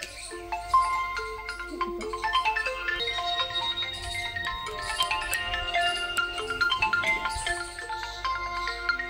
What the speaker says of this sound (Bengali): যে তোমার ফোন আইছে, নাও।